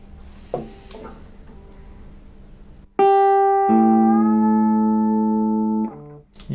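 A guitar string bend that pulls a neighbouring open string out of tune: a ringing note starts abruptly, then a second string joins and its pitch sags slightly as the bend is held, played alone.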